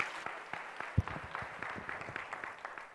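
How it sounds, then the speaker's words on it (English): A conference audience of students claps for paper presenters, faint and somewhat distant, with scattered individual claps and one sharp thump amid the thin applause. "Give a huge round of applause for them"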